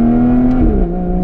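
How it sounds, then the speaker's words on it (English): A stock exhaust on an Aston Martin Vanquish S Volante convertible sings loud and close, with a steady tone that drops in pitch partway through as the revs fall. "my cheeks are so in tune with this exhaust"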